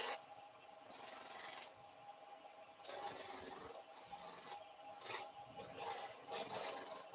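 Wet sanding a resin and wood pendant gives a soft, gritty rubbing and rasping in repeated strokes, fairly quiet and close, with brief louder bursts of scraping.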